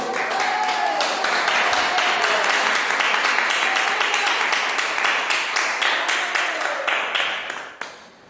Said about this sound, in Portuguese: Bate palmas e dá glória a Deus.